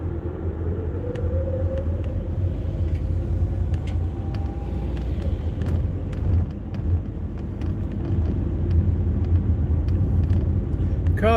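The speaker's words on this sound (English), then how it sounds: "Car runs very smooth." A van with a failing air conditioner drives along, its engine a steady low rumble with road noise throughout and faint clicks and rattles from inside the cabin.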